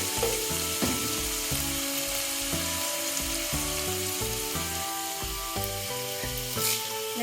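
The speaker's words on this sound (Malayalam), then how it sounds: "സവാള നന്നായി വഴന്നു വരും. ഇതിലേക്ക് ഞാൻ ആവശ്യത്തിന് ഉപ്പ് ചേർത്ത് കൊടുക്കുന്നുണ്ട്." Onions sauté in a pan for chicken varattu, giving a steady, continuous sizzle with light stirring. Melodic background music plays throughout.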